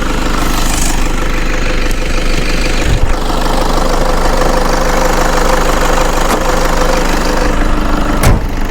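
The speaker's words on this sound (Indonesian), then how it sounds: "Masih mantap kan suara mesinnya? Suara ciri khas turbo VNT-nya masih nyaring ya." A Toyota Hilux diesel engine with a VNT turbo idles steadily and loudly up close, a constant rumbling knock with a faint turbo whine riding on top and a couple of brief clatters, no voices.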